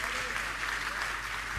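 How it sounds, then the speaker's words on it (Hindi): Audience at a Jain religious discourse in Dhanbad clapping loudly, a continuous dense roar of hands that fills the whole moment without a break. "बजा लो अपने लिए ताली"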